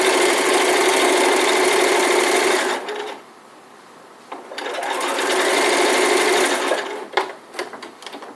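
Sewing machine stitching the seam of an elf hat, a loud steady whirring run that pauses briefly, then resumes with bursts and clicks.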